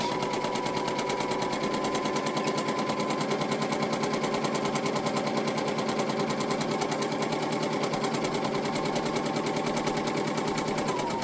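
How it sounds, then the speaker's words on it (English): A sewing machine runs steadily for the whole stretch, its rapid needle clatter even and loud as it stitches down the edge of a piece of ribbon fabric. "just sew down this edge, staying right on that edge of the fabric with the edge of the foot"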